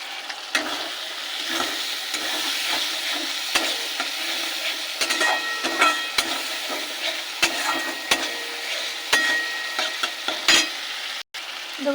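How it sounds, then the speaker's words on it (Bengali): Ground spice paste stirred and frying in a pan with prawns for potol dorma, a steady close sizzle broken by repeated sharp scrapes and knocks of a spoon against the pan. "এটাকে একটু নেড়ে নেব। এবার দেবো বাটা মশলা।"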